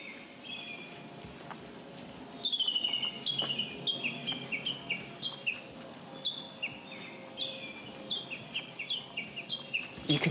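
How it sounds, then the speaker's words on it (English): Birds chirp in repeated high, quick calls over a constant insect drone, fairly faint and distant in an open green forest setting near Mount Yamiso, Ibaraki, Japan, without talk. "if you listen carefully, you can hear birds chirping"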